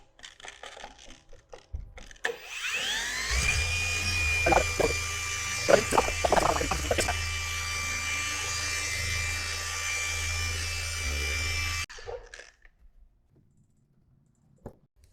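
Car paint polisher running on a car body during paint correction, a steady droning whir with a low hum and some rattling contact noise, starting up and then cutting off near the end.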